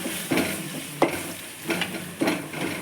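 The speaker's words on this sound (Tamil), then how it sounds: "இந்த டைமில் மிளகாய்த்தூள், தனியாத்தூள் நல்லா எண்ணெயிலே வறுத்துக்கணுங்க" Chilli and coriander powder frying in oil, with onion and tomato already softened in the pan for a Thanjavur-style fish curry, a steady close sizzle broken by four rhythmic stirring scrapes.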